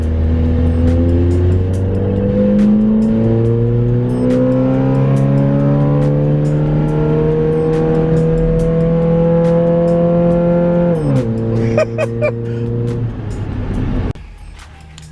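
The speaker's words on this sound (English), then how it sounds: "First dig with the OEM cams and OEM head bolts before we nitrous it." Minivan with an automatic transmission and stock cams and head bolts, before a nitrous install, accelerating hard from a launch; the loud engine climbs in pitch through several upshifts over about eleven seconds, then eases off and fades.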